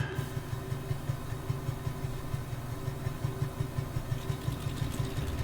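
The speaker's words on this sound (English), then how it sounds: "So let's go ahead and start the first engine." An aircraft engine starts up in Microsoft Flight Simulator, settling into a steady idle with a low, regular pulsing throb and a constant droning hum, close and alone.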